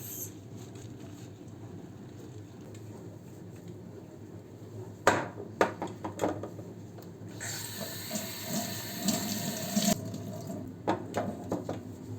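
Tap water running into a sink in bursts, with splashing and clinking as a steel tea holder is rinsed by hand; quiet room, no speech.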